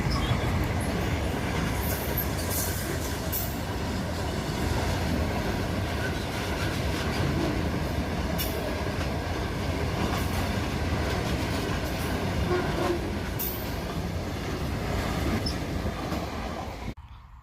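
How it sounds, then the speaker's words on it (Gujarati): A train rolls past on the rails, a loud, continuous rumble lasting over fifteen seconds with faint wheel squeals, fading slightly at the end and heard alone. "પેટ્રોલ ડીઝલથી ભરેલી ટ્રેન 5-5 લીટર મોકલાવું"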